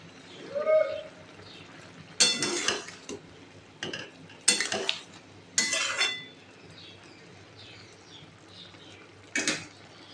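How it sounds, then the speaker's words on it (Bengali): Fried prawns tipped into a simmering bottle gourd curry and stirred, giving a few loud, separate bursts of scraping and clinking from spoon and pan, with quiet gaps between them and no talking. "ভেজে রাখা চিংড়িগুলো দিয়ে দিচ্ছি।"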